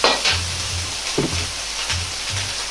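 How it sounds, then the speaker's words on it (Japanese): Ground meat stir-frying with garlic and ginger, a steady close sizzle with brief scraping stirs from a spatula against the pan, no talking. "このくらいに肉が炒まったら、ニンニク、生姜を入れて炒めます。"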